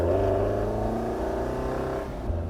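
Alfa Romeo Giulia GTA engine held at a steady, loud rev with a deep harmonic drone that eases slightly near the end, heard up close with no talking.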